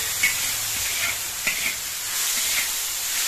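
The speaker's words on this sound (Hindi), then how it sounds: "अब हम इसमें डाल रहे हैं पास्ता अपना" Pasta goes into a hot pan of cooked spices and sizzles steadily with a bright hiss and a few small clicks and pops, close up, with no talking.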